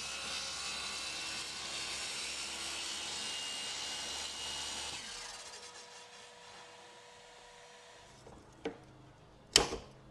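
Table saw cutting small camphor laurel wood bow-tie inlay pieces with a jig, a steady broadband whine running for about five seconds, then winding down to quiet, followed by two brief sharp knocks near the end.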